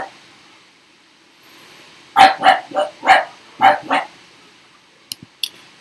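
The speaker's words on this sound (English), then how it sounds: "this is my dog, Candy." A pet dog barks about six times in a quick uneven burst, close and loud over a quiet room, followed by two short sharp knocks.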